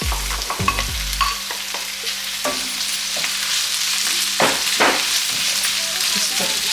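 Tuna and onion fry in a pan under a constant close sizzle, broken by repeated scraping and knocking strokes of a utensil stirring, including a heavy thump near the start.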